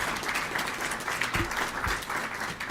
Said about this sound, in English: Let's give one more round of applause for our speakers.